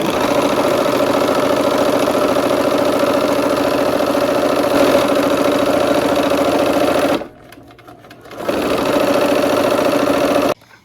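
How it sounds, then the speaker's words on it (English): A sewing machine runs steadily as it stitches quilt block pieces together, a loud continuous whirring hum that stops for about a second, resumes, then cuts off at the end. "here we are at the machine. We're gonna go ahead and sew all of these on"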